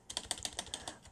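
Rapid clacking from a loud computer keyboard being typed on up close, with a dozen or so sharp, uneven keystrokes in quick succession and no voices.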